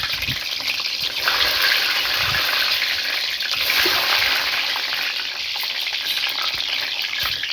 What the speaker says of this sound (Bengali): তেল গরম হয়েছে, এবার দিয়ে দেবো ডিম।